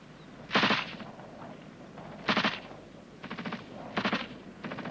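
A British Army machine gun group gives covering fire for a Cold War section assault, in four short, rattling bursts spaced a second or so apart and heard at a moderate distance.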